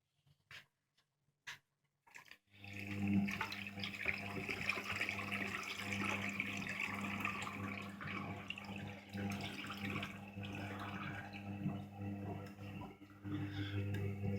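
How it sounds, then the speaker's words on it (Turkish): Water runs into the detergent drawer of an Arçelik 3320 SA washing machine: a few faint clicks, then a steady, close rush of flowing water that continues to the end. "Tamamen hepsini alamadığı için şurada suyumu ekliyorum"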